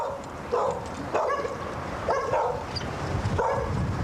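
A dog barks at a house in Gateshead in four sharp, close bursts spaced a second or so apart, with quieter whimpering and background noise in the gaps.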